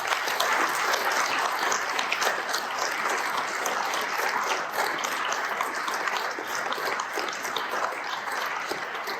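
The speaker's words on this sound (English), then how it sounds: "Let's give our students and faculty one final round of applause." Sustained applause from a large audience at a high school awards ceremony honoring students and faculty, a dense, steady wash of clapping filling the whole stretch without a break.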